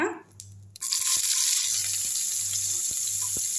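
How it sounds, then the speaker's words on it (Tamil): Coconut roasting in a pan with a little sesame oil gives a bright, steady sizzle that starts after a short quiet moment, with a few soft ticks and pops under the hiss. "முதல்ல வந்து தேங்காவை வறுத்து எடுத்துடலாங்க"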